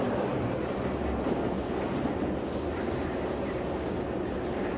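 A train runs on the line from Kansas City toward Chicago, heard from inside the cab as a steady, loud rumble with wind noise. The mechanical roar is continuous and unbroken, and no one speaks.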